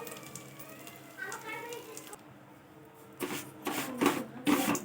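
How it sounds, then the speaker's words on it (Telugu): Vermicelli (semiya) roasting in hot ghee for a sago payasam gives a soft, steady sizzle and frying crackle. It grows louder and more textured in the second half, with scraping stirring bursts and a brief quieter lull. "ఇదే నెయ్యిలో మనం సేమియా వేయించుకుందాం"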